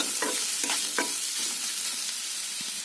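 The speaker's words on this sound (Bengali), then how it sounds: "খুব ভালো করে ভেজে নেব লাল লাল করে।" Onions fry in a pan under a steady crackling sizzle, while a few quick stirring scrapes sound close at the start and fade into the continuous frying.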